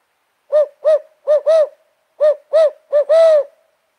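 A person imitates a hoot owl with a series of about eight loud, close hoots in uneven rhythm, the last one held longer.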